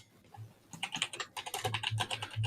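Quick, uneven keystrokes on a computer keyboard start softly, then turn into a denser, clattering burst of typing, close and fairly quiet with no talking.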